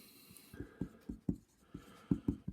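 Marker or pen strokes writing a factorised quadratic equation by hand, a series of quick taps and short scratches in irregular rhythm, close and clear with no talking.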